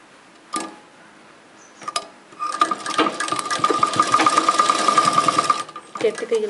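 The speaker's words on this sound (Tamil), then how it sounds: "மடித்து நம்ம இந்த இடத்துல தையல் போட போகிறோம்." A few clicks give way to a sewing machine running fast and evenly for about three seconds as it stitches folded fabric piping, close and clear, then a brief stop and restart.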